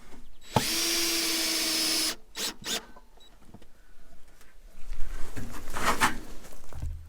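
A power drill whirs loudly for about a second and a half while fixing a raised-bed bracket at an awkward angle, then stops; short bursts and clunks of work follow, with rustling afterward.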